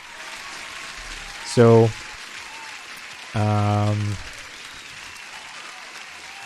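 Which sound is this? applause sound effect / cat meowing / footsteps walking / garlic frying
applause sound effect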